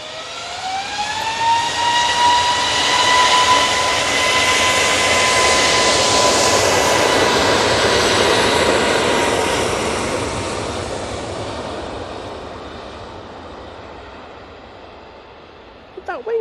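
An ATR 72 turboprop arriving from Guernsey rolls out after touchdown, its loud propeller and engine whine holding steady, then slowly fading as it moves away.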